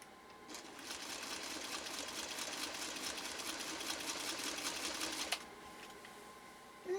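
A restored 1953 Singer 301A sewing machine stitches steadily, its motor humming with a fast, even needle chatter for several seconds before stopping, heard close and fairly quiet in a still room.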